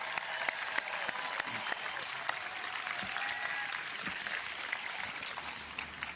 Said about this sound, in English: I want to give them a round of applause behind the scenes.